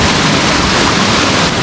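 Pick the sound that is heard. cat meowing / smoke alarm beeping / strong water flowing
strong water flowing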